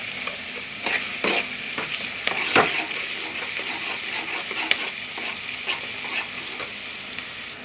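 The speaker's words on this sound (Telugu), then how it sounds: "పచ్చిమిర్చి వేసుకుందాం." Green chillies frying in hot oil with golden-browned onions, a steady loud sizzle broken by repeated stirring scrapes and clinks, no voices.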